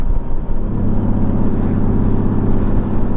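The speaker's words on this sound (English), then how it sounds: "Just twisting that throttle, letting it loose." A six-cylinder motorcycle engine revs as the throttle is twisted, a loud, close, deep rumbling drone that holds steady and smooth for a few seconds with no voices.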